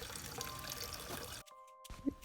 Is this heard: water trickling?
yes